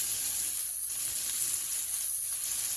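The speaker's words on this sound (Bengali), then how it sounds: "এখন আমি দিয়ে দেবো পেঁয়াজ কুচি।" Chopped onions sizzle in hot mustard oil, making a close, steady, loud hiss that continues evenly throughout with no voices.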